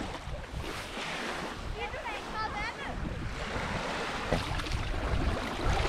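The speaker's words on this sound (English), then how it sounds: "The swell is coming from the big open water." Open-water swell washes against a sailing canoe off Fyn, a continuous sloshing and splashing close by under wind buffeting the microphone, with a voice speaking briefly.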